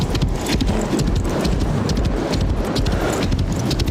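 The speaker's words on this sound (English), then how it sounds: "You can grab the horse and kind of just start roaming." Horse hooves clip-clopping in the VR horse racing game Rival Stars Horse Racing, a steady, busy rhythm of close hoofbeats that runs loud and continuous throughout, with no talk over it.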